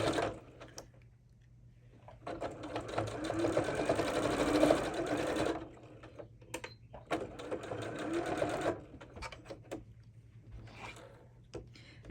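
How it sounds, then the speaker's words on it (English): A sewing machine back stitching pet screen basket material whirs in several bursts of varying length, close and fairly quiet, with short pauses in between. "Don't forget to back stitch to stabilize that."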